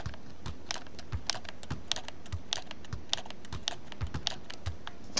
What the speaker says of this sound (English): You could probably hear me flicking the right stick right before the left